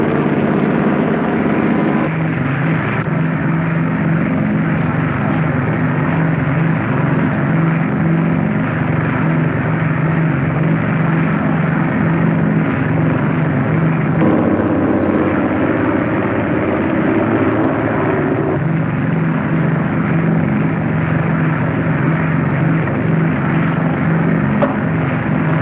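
A propeller airplane on a ground-controlled approach to landing, its engine drone steady and fairly loud throughout, holding a continuous low hum with slight shifts in tone as it descends toward touchdown.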